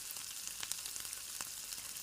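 Tofu fries in hot oil with a steady, bright sizzle and small crackling pops throughout, close up and fairly quiet, with no voices.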